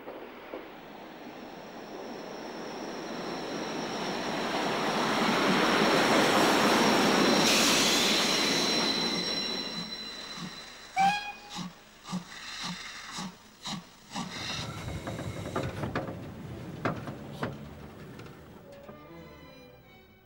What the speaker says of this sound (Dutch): Buiten rijden echte treinen.